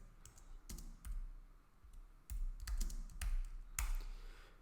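Keys clack on a computer keyboard while code is typed for an automated browser test, irregular bursts of quiet taps close by, no voices.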